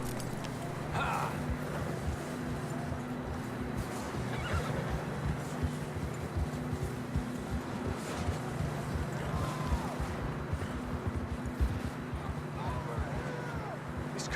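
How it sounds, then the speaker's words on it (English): Horses from the video game Red Dead Redemption 2 whinny and snort over a steady low rumble of ambient game sound, with a continuous busy texture of hooves and movement and a few short neighs scattered through. "I don't think we can go much further on the horses"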